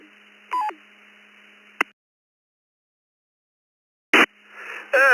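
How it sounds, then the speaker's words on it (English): An amateur radio transmission on a morning net ends with a brief electronic roger beep, set among short tone bursts and squelch noise with quiet gaps between them. "it sounds like you have a Roger beep on your radio"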